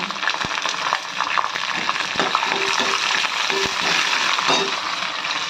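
Green chillies and ginger sizzle in hot oil alongside chana dal, urad dal and mustard seeds for rava pulihora, a steady, fairly close frying crackle broken by a few sharp utensil taps.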